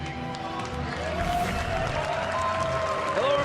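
A live audience at the Hearthstone World Championship in Amsterdam fills the space with steady, dense applause and crowd noise that holds at a constant level for the whole stretch, with no single voice standing out.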